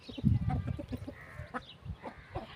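Chickens and a rooster cluck and squawk close by while being scattered seeds, a busy run of short, overlapping calls at moderate loudness.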